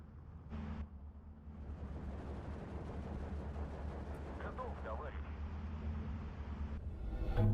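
Mortar fire in the World War II strategy game Steel Division 2 during a Soviet campaign battle: distant, muffled booms and rumbling artillery against steady battlefield noise, fairly quiet and continuous.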